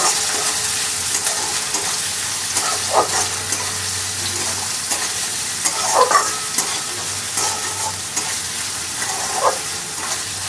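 A large chopped onion fries in a pan, loud close sizzling under repeated spatula scrapes and stirs at uneven intervals, with a faint low hum beneath and no voices.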